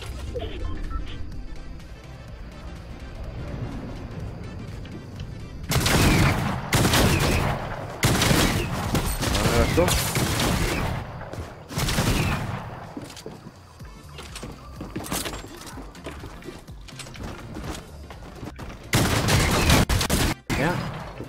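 Rifle gunfire in Fortnite Season 6 Chapter 2, loud bursts of automatic fire breaking out in several separate volleys amid quieter game ambience and occasional talk.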